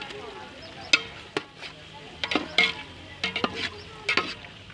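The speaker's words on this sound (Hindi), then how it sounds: "चिकन को मसाले के अंदर भूनना है।" Chicken frying and being stirred into biryani masala in a pan, with soft sizzling underneath and several sharp scraping clatters of the spoon against the pot, loud and close, with no talking.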